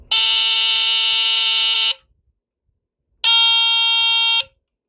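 A Montgomery Ward smoke detector made by Fyrnetics sounds two loud, piercing electronic alarm blasts, each nearly two seconds long and separated by a brief silence, close to the listener.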